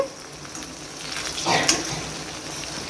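Brinjal pieces frying in a pan for a brinjal and green chilli curry, giving a soft steady sizzle with a brief stir or scrape in the middle, fairly quiet and close.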